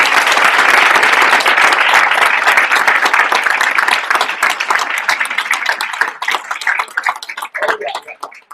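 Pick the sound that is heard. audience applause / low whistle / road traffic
audience applause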